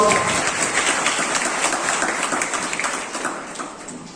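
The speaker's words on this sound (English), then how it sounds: "So please give a big round of applause for him." An audience at a tree plantation and road safety event claps in a broad, steady round of applause that gradually thins and fades toward the end.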